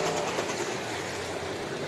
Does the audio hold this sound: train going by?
yes